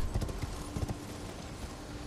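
Horse hooves clip-clopping in Elden Ring, a few quick, close hoofbeats over a steady ambient background.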